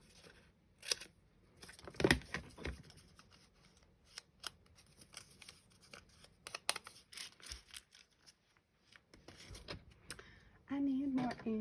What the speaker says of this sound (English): Get out my scissors.